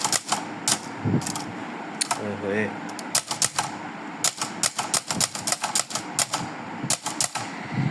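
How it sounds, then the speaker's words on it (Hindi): An antique manual typewriter being typed on, with sharp, loud mechanical key strikes in irregular bursts and brief pauses, while a voice briefly speaks partway through. "अच्छा, ये जो टाइपिंग की आवाज़ है ना,"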